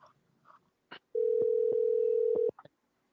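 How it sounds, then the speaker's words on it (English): Telephone call being placed: a short beep, then a steady sustained dialing tone for over a second punctuated by brief clicks, followed by a few quick beeps, close and clear with no voices. "Let's get Miss Purcell on the phone"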